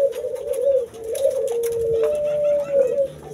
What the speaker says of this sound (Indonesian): Yang ini cuhu dengan burung puter ya, ini sering beranak juga ini